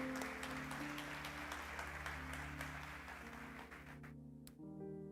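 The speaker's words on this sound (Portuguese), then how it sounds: "Dá um aplauso para ele." Church congregation applauding, a broad continuous wash of many hands clapping over sustained music, cutting off abruptly near the end before the music carries on alone.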